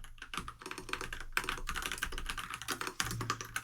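Fast, steady typing on a computer keyboard while leaving a comment, dense close clicking keystrokes over a faint low hum, with no voices.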